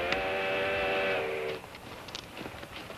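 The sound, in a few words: train coming around the bend, from a film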